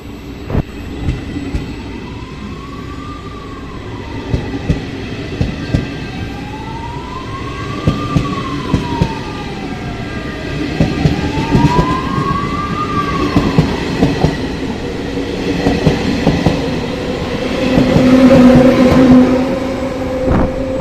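A busy rail setting at Venice Mainland train station with a constant rumble of trains, a rising-and-falling two-tone siren repeating three times, and occasional clanks and announcement-like tones.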